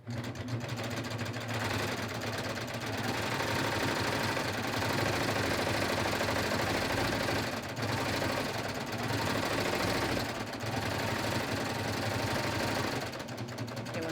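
Sewing machine stitching a pocket onto the shorts under a skort: a steady, loud mechanical whirring hum with rapid needle rhythm running almost continuously, with brief slowdowns, close by and without talk.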